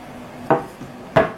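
Hand scrambling of a plastic Pyraminx puzzle, two sharp clicking turns of the pieces with a softer click between, close and dry with no talking.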